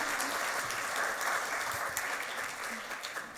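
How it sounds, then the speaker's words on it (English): Steady applause from a presentation audience fills the whole stretch, dense and even, with a brief cheer in the room under it. "Big round of applause for Celine."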